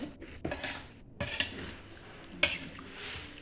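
Rice water is mixed into a stewed chicken and sour bamboo shoot dish, with a utensil clanking and scraping against the pot in a few separate sharp knocks between quieter stirring.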